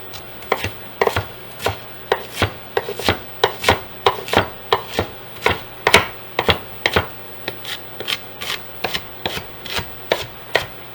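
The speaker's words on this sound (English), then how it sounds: "So I'm just gonna start cutting up my onion here." A knife chops an onion into small pieces on a board, striking in a fast, even rhythm of crisp knocks, close and loud throughout.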